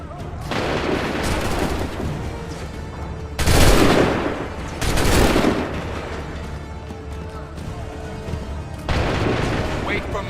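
Musket volleys crash out in Assassin's Creed 3, loud booming massed gunfire in several distinct bursts with rolling echo, mixed with battlefield noise and shouted commands.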